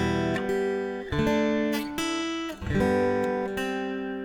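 Several strummed guitar chords ring out in succession, each downstroke followed by sustained, bright tones that decay slowly, with a clear melody note on top.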